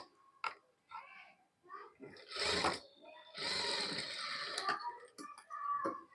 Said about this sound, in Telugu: ఫోల్డింగ్ మీద అయితే స్టిచ్ పడకుండా పక్క నుంచి స్టిచ్ లాగుతున్నానండి.